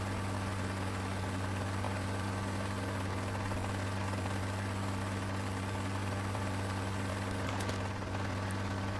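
A helicopter in the video game RS2 flies with a steady, loud low rotor and engine drone that holds unchanged and fills the whole stretch, with no voices.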